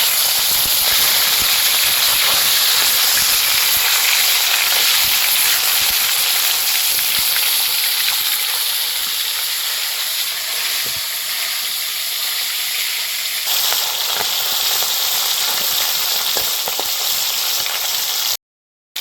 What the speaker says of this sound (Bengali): এবার মাছটা ভিজাইয়ে ওই পাশটাও ভাজে নেবো ভালো করে